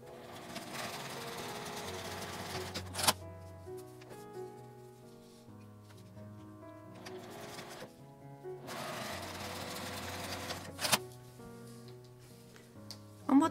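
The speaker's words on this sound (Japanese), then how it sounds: "クリップで留めたらウレタン側から縫います。" Household sewing machine stitching urethane foam and fabric for a soft phone holder, running in two long whirring stretches with a pause between and clicks as it stops, faint talk around it.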